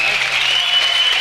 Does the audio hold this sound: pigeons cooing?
no